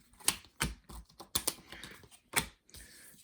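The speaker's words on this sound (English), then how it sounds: "Do some quick shuffling action over here." A deck of cards for a Mandalorian-themed tabletop card game is shuffled quickly, partly one-handed, giving a few short, crisp riffling bursts separated by brief pauses, close up with no talking.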